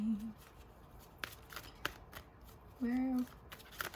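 Tarot cards being shuffled in quick riffling bursts and soft flicks, close up, with brief tonal squeaks between the shuffles.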